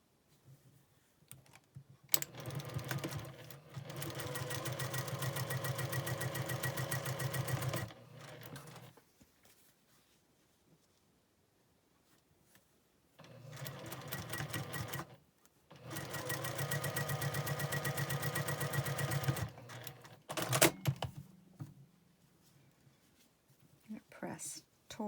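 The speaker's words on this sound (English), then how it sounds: "So you just sew them together like a regular 4-patch." A sewing machine stitches quilt blocks together in two long, steady runs of rapid mechanical clatter, with quiet pauses and small handling clicks between them.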